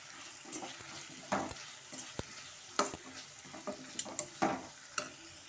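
Close-up stirring and scraping of drumstick and eggplant with chili powder in a pan over a soft sizzle, with irregular clinks and taps of a utensil.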